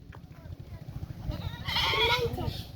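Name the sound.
goat bleating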